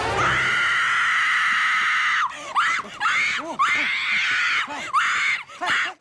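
A woman screams on waking from a nightmare, a long sustained high shriek followed by a series of shorter broken cries and gasps, loud and close.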